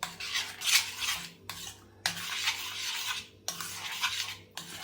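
Mutton is worked through spice masala in a metal vessel, giving repeated scraping, clattering strokes in bursts separated by short pauses, close and fairly loud.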